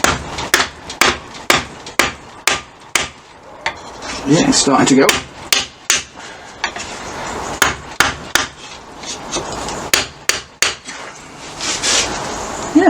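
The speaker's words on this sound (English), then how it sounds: "I hit the block of wood with the hammer" A lump hammer pounds a block of wood held against an aluminium motorcycle bracket on a Kawasaki Z650 restomod, giving a steady series of sharp, close knocks with a brief scraping stretch midway and a short spoken remark.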